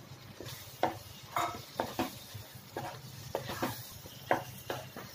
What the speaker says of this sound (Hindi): अब इसमें जो हमने पनीर को फ्राई किया था वो अभी मैं डालूंगी।